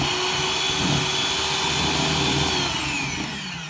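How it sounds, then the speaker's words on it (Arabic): An electric mixer whisks butter at low speed, a loud, steady motor whir with a constant tone that holds close for a few seconds and then slightly eases off at the end. "هلأ بخفقهم مع بعض على سرعة خفيفة"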